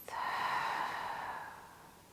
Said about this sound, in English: open the mouth, exhaling through the mouth